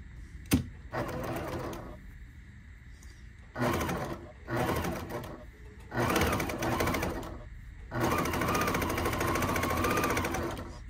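A sewing machine stitches the rows of a potholder in several close, loud bursts of varying length, separated by short pauses.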